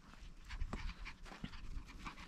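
Chihuahua puppies pant after running in the snow, giving quick, close, breathy puffs in a fast irregular rhythm, faint and without talk.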